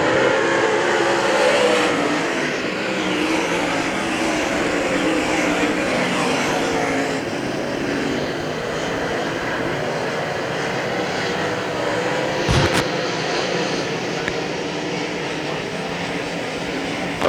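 UMP Modified race cars roar around Hagerstown Speedway in the closing laps of a 20-lap main event, a loud continuous blend of engines that swells and fades as cars sweep past, with no talk.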